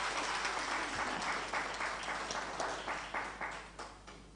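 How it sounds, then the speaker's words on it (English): An audience at an impact celebration event gives a dense, steady round of applause, heard alone and somewhat distant throughout. "let's just give them another round of applause"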